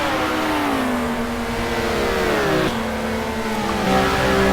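Porsche GT2 race cars battling at Brno in a racing video game, engines droning loudly and steadily with a gear change midway and rising revs near the end.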